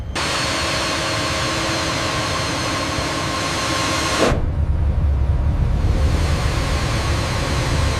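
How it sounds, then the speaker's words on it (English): Four jet engines of an Airbus A380 run up toward full thrust during factory testing, a loud, steady roar and hiss that shifts abruptly midway into a deeper, rumbling blast, continuing strongly without speech. "Engines 1 through 4 confirmed active. Proceed with full power increase."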